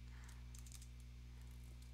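Quick, light keystrokes tapped on a computer keyboard in short scattered bursts, fairly faint over a steady low electrical hum.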